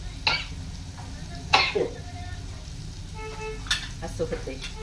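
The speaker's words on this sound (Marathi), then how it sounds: "आता ठसका येते." A woman coughs and clears her throat a few times over the faint sizzle of chili and tomato frying in a pan, with light stirring clatter in a home kitchen.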